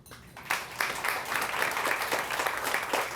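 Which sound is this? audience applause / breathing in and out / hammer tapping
audience applause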